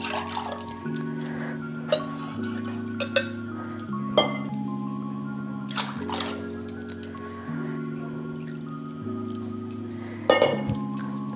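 Bowlfuls of water measured into a pot for basanti pulao, with soft pours and splashes, several sharp clinks of the bowl against the pot rim at intervals, and a steady low hum in the background.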